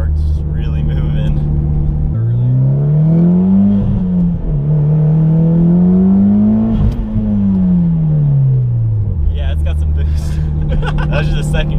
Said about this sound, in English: That was just a second gear pull, and once it hits, that really hits.